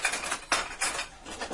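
Metal mixing paddle pulled from a hot bread machine pan, a few close metallic clinks and scrapes in quick succession.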